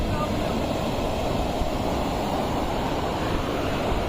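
Sea waves breaking on a shore at night near a campfire, a steady loud roar of surf mixed with wind buffeting the microphone, continuous with no clear pauses.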